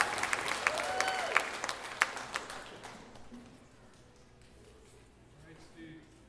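A talent show audience at a county finals event claps and cheers for a singer. Sharp, dense applause fills the first three seconds under an announcer's voice, then fades into quieter murmur.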